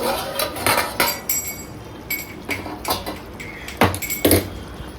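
Metal clanks and clinks sharply several times as a lid is lifted and knocked against a pot of simmering curry, close and irregular.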